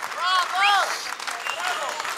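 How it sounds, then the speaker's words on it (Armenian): Audience applause at a singing show, a wash of clapping that runs under a voice talking over it throughout. "Շնորհակալություն եւս մեկ անգամ ծափահարություններ"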